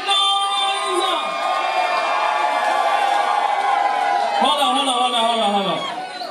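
A Halloween party crowd cheers and whoops loudly and continuously, many voices yelling together up close, with a fresh swell of shouting near the end.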